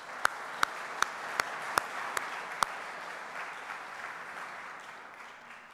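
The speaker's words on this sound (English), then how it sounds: "Let's give them an applause." Audience applause at a scientific conference kickoff in Vienna: a few sharp, close claps over a wash of distant crowd clapping that fades out, fairly faint overall.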